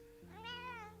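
Mallow, a pet cat, gives a single drawn-out meow, faint and close in a quiet room, rising and then easing off over about a second.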